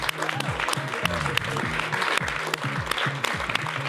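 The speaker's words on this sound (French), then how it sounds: "On l'applaudit bien fort." An audience at a festive bistro gathering gives loud, sustained applause, thick clapping throughout with voices and cheers rising over it.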